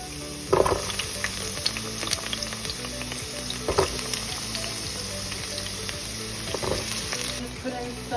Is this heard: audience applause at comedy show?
no